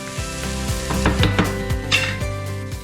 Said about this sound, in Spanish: Primero hay que añadir la cebolla. Pochamos a medio fuego unos 8 minutos, hasta que nos quede tierna.